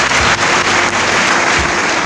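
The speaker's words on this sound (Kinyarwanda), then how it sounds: "Komera Imana amashyi niba" A church congregation claps in praise of God during a Kinyarwanda sermon, a loud, dense wash of applause with a few stronger claps poking through, steady for about two seconds with no voices.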